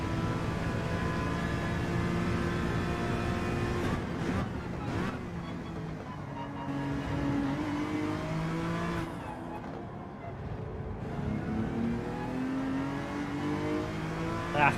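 A race car in Gran Turismo 7 revs hard and steadily through the gears, its engine note climbing and dropping with throttle changes, loud and continuous throughout.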